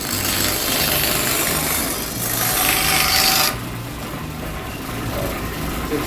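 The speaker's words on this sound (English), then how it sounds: "The bandsaw allows me to cut curved shape" Bandsaw cutting a curved shape in wood at a historic water-powered mill, a steady loud rasping buzz with faint rhythmic machinery thumps beneath, easing off briefly midway before continuing.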